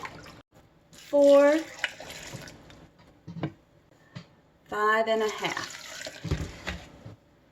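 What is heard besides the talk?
pouring apple cider vinegar into a pot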